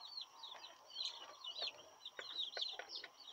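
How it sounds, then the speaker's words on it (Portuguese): Free-range chicks peep and cheep in rapid high chirps, fairly faint, with a steady background hum and no talking. "Esses pintinhos são galinhas de capoeira."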